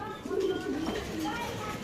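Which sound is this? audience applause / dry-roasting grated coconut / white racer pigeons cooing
white racer pigeons cooing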